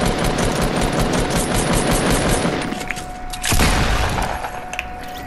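Sustained automatic gunfire in a video game firefight, loud and continuous, easing off briefly before a heavy burst and then scattered follow-up shots.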